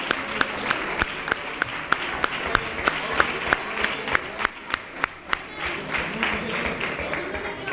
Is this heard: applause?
yes